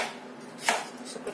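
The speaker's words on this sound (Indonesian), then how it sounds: "Ini juga kita potong kecil-kecil." A knife chopping carrots into small pieces on a board gives a few faint, quick cuts, including one sharper knock, with kitchen quiet around them.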